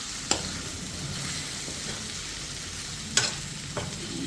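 Mutton chukka sizzling and frying in a pan while being stirred, a steady close crackle with a few sharper scrapes of the spoon against the pan.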